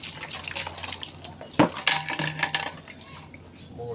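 An iPhone is rinsed under cold running tap water, giving a close splashing stream with clinks and knocks against the sink, including one sharp hit near the middle.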